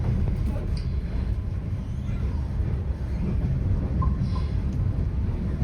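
A steady, loud rumble of a moving steam train fills the whole stretch, with faint squeals and rattles over the low drone.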